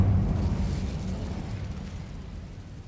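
Incendio fire spell cast in the video game Hogwarts Legacy: a loud, low rumbling whoosh of flame that bursts at the start and slowly fades over a few seconds, with no talking.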